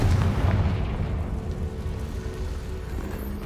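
A Confringo blasting spell explodes in the Hogwarts Legacy video game, a loud low boom right at the start that rolls into a long crackling, rumbling decay lasting a few seconds, with no talking.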